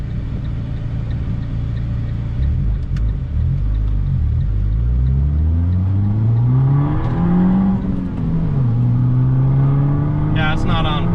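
Abarth car with boost accelerating hard, engine note climbing in pitch through gears as it pulls, a steady loud rumble filling the cabin from start to finish.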